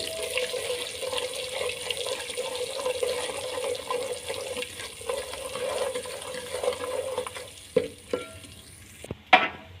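Spices and turmeric fry in hot oil for Lahori khoye wale chane, a soft continuous sizzle under light stirring, ending in a few louder clanks of a utensil against the pan.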